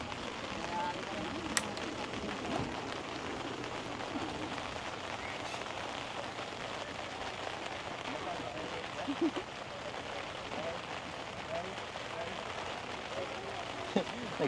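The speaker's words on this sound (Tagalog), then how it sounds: "Nagsisimula na naman pumatak ang ulan." Rain begins falling at a campsite, a steady broadband patter of drops on surfaces continuing throughout with a few sharper ticks, fairly close and even.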